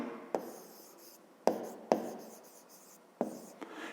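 Pen or pencil writing out a math expression for a fifth-grade exercise on paper, close and clear, with a few sharp tap-like strokes separated by longer scratchy scribbling passages, no talking.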